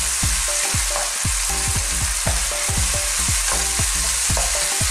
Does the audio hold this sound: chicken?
yes